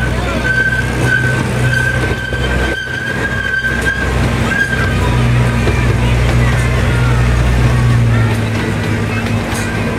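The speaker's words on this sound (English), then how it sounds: "thanks so much for riding with us today" A miniature zoo train rumbles along steadily with a continuous low engine drone, a thin wheel squeal, and rattling, loud and close throughout.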